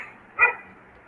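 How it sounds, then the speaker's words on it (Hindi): A dog gives a single short bark in the background, moderately loud against faint room noise. "I am sorry for the background noise if you are hearing कि कुत्ते भौंक रहे हैं बैकग्राउंड में"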